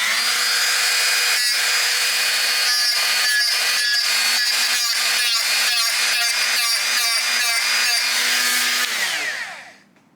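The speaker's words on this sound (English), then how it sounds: "Let's see if we can grind a little bit of hammer." A rotary tool fitted with 3D-printed plastic sandpaper grinds against a hammer, giving a loud, steady high whine broken by rapid rhythmic grinding bursts before the motor spins down and stops.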